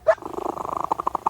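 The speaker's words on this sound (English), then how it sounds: "That's a happy cat." A contented cat purrs up close in a steady, rhythmic run of soft pulses after a brief louder onset, with no other sounds.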